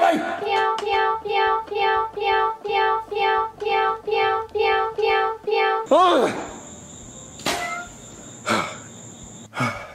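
A cat piano toy plays a bouncy run of repeated synthetic meow notes, about a dozen in a steady rhythm, then gives way to a rising cry and a few sharp squeaks and clicks nearby.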